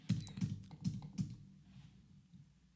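A few sharp computer keyboard keystrokes pressed as editing shortcuts, four crisp evenly spaced clicks up close followed by softer scattered taps, with no voices.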